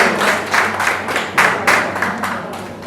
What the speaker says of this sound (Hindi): जोरदार ताली से स्वागत करें डॉक्टर आभा झा ने